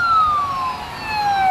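An ambulance siren wails with a slowly falling tone, fairly loud and steady over low road rumble at a street scene in Liberia.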